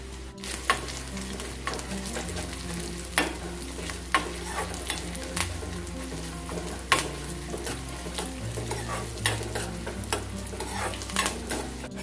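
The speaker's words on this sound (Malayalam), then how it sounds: "2 സ്പൂൺ വെളിച്ചെണ്ണ ഒഴിച്ചു കൊടുത്താൽ മതി. 1/2 സ്പൂൺ കടുക് ഇട്ട് കൊടുക്കാം. ചെറിയ ഉള്ളി അരിഞ്ഞത്, കറിവേപ്പില, ചുവന്ന മുളക്," Mustard seeds, chopped shallots, curry leaves and dried red chilli crackle in coconut oil, a steady sizzle broken by regular spoon-against-pan clinks, with background music running throughout.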